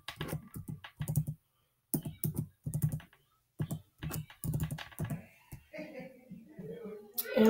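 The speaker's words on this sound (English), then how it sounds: "I'm going to type in what I wanted to say." Someone types on a computer keyboard in short, quiet bursts of key clicks separated by brief pauses, heard close up.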